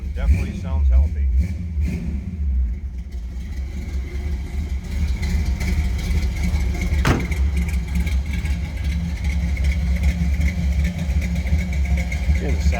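A 1972 Chevrolet Chevelle Malibu SS tribute with HEI ignition and a Thrush side dump exhaust idles with a steady deep rumble throughout, a brief blip near the start, with someone talking over it.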